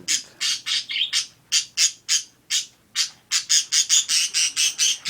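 A budgie squawks and chirps in rapid, repeated bursts, loud and close, a steady run of sharp calls spaced roughly a few per second with short gaps between, alone without voices.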